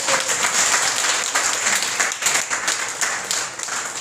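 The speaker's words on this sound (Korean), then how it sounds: "박수 부탁드립니다" Students at a church youth worship service burst into loud, lively applause with crisp individual claps to welcome their teacher to the front, the clapping steady and close throughout.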